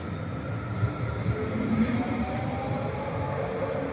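An original Croydon Tramlink tram, built 1998–1999, rolls across a road level crossing near Wimbledon, making a steady rumbling hum with a few sharp wheel clicks as it passes close by.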